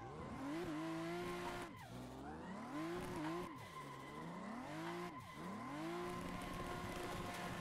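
A simulated car drifting in Assetto Corsa on a Cammus C5 wheel: engine revs rise and fall in sweeping cycles while tires squeal steadily through long slides, loud and continuous.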